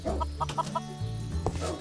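Chickens clucking in the Minecraft video game, short close game-sound clucks in quick repeated bursts, loud and alone with no talk.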